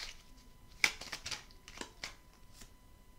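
Oracle cards shuffle and slide against each other in a few soft, papery flicks and rustles, close but faint, as a bonus card is drawn.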